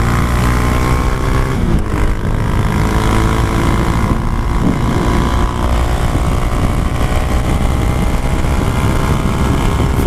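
A Honda Grom motorcycle fitted with a 17-tooth sprocket, warmed up and running flat out downhill in fourth gear. The engine drones loudly and continuously, mixed with heavy wind rush, with no pause throughout.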